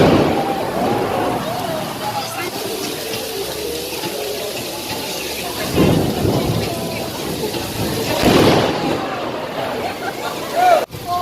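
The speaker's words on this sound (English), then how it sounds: "there's a massive thunderstorm" A massive thunderstorm at Hogsmeade in Florida brings steady heavy rain with deep rumbling thunder swells, and people talk and exclaim over the downpour.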